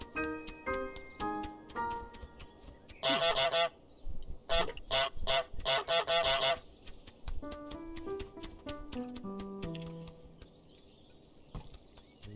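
A cartoon goose in Untitled Goose Game honks in a quick run of about eight loud, blaring bursts over plinking piano music, with sparser piano notes before and after.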